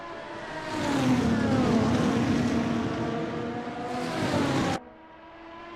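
Formula racing cars at Suzuka: high engine whines climb and dip as they rev through gears and sweep past, then the roar cuts off abruptly near the end, leaving a quieter engine hum.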